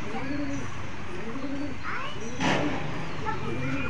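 A male Benares pigeon of the old Khulna line, a red-necked azan breed, coos in a repeating pattern of rising and falling throaty phrases about once a second, close and steady over a noisy background.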